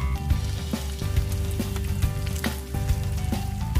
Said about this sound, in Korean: 아직 달궈지지 않은 후라이팬에 콜드 스타트로 튀길 거예요.